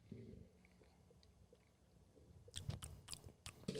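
People chewing snacks together, soft quiet munching and crunching close by, growing louder with bursts of crunchy bites toward the end, no talking.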